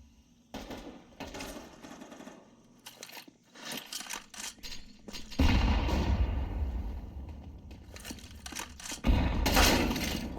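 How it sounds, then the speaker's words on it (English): Smoke grenades going off in a competitive Counter-Strike match: clicks and sharp gunfire-like cracks lead into sustained rushing hisses that rise loudly twice. "Here come the smoke grenades."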